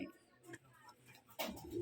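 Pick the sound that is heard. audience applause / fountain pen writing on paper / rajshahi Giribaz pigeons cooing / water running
rajshahi Giribaz pigeons cooing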